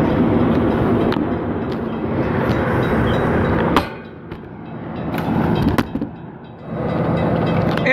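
A Sydney train departs Douglas Park station, a loud continuous rumble of wheels and carriages with sharp metallic clanks, dipping briefly as it passes before the roar returns.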